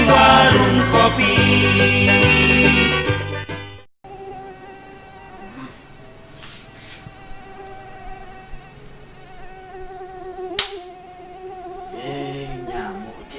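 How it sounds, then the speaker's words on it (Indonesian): A mosquito whines with a thin, high, steady buzz heard close, wavering slightly in pitch, after loud music cuts off in a mosquito repellent spray advertisement. "Nyamuk dia."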